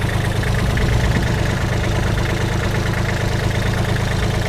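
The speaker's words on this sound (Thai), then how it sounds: "เสียงเครื่องเสียงอะไรก็ปกตินะครับ" The diesel engine of a Kubota L3408 tractor, more than ten years old and running without smoke, idles steadily and loudly up close, a continuous even rumble with no talking.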